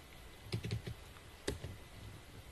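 Faint clicks of typing on a computer keyboard, a short cluster of keystrokes followed by another brief group, soft and sparse over low room noise.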